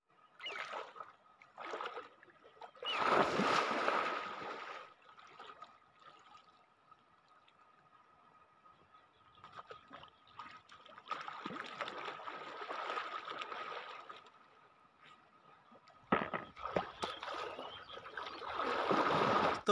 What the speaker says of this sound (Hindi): और देखिए नदी कितना खूबसूरत है, कितना पानी है देखिए